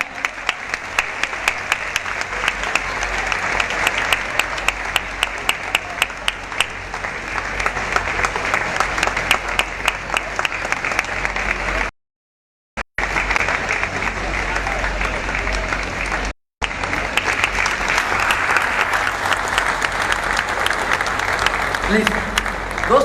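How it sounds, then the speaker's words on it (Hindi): An audience at a direct-selling business event in Haridwar bursts into sustained applause, dense clapping from a crowd that runs on with two brief breaks, while someone speaks loudly over it. "जोरदार तालियां।"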